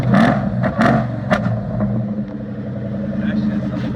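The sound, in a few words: Terminator Cobra engine revving with H-pipe exhaust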